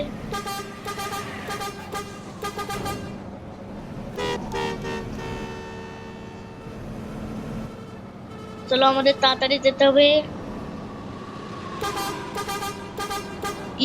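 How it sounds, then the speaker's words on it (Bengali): A Hanif intercity bus sounds its loud musical horn in several bursts of rapid repeated toots, with engine rumble underneath and a person talking briefly in between. "সাউন্ড মানে হর্ন দিতে যেতে হবে।"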